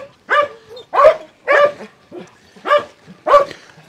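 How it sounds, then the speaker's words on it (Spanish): Several dogs at a rural home give five loud, evenly spaced barks in quick succession, close by, with no talking over them. "Tiene unos perritos muy..."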